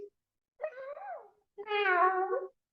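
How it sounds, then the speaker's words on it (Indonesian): Two distinct cat meows, the second longer and louder, with nothing else in the background. "suara kucing"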